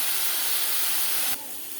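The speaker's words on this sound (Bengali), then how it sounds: "মশলাটা একটু কষে নেব" A spice paste of ground ginger, onion, garlic and tomato frying with black cumin in a pan for fish curry gives a loud, steady hiss that drops abruptly to a quieter sizzle near the end, with no talking.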